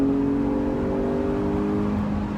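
A 2018 Jeep Wrangler Unlimited Sport's 3.6-litre engine drones steadily with a rising hum as it accelerates onto a highway, heard from inside the cabin with road and wind noise underneath and no talking.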